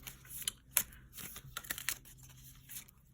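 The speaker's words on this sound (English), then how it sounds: "I'm going to shuffle the decks, all three" Three tarot card decks are shuffled by hand with quiet, irregular riffles and soft papery flicks, a few sharper snaps standing out over a low background hum.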